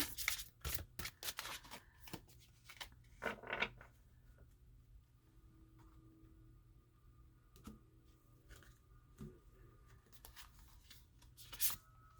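Oracle cards are shuffled in quick riffling bursts, crisp and close, followed by quieter handling sounds and a final short shuffle.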